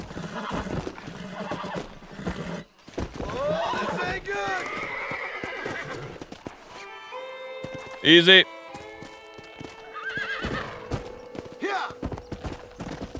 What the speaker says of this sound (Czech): Kůň zkrocen, zaparkujeme ho.